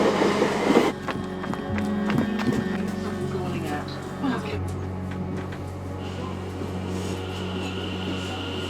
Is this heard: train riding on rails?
yes